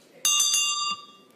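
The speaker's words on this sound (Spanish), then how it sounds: "Suena la campana y comienza la sesión" A bell rung to open a Senate session, one bright metallic ringing burst with clear overtones that holds briefly and then fades, heard alone in a quiet chamber.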